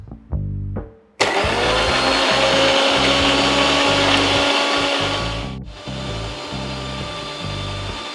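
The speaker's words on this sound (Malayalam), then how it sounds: "ഇത് നമുക്ക് ഇനി അടിച്ചെടുക്കാം നന്നായിട്ട്" A kitchen blender whirs loudly as it blends orange juice with honey, starting with a short burst and then running as a steady, strong roar for several seconds before winding down.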